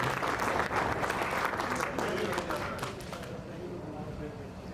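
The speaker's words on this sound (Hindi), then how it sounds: "तालियां चढ़ा साहब आपके टेबल पे करें।" Audience clapping and slapping on tables at a business gathering, a dense, loud burst that fades over the last seconds, with some talk under it.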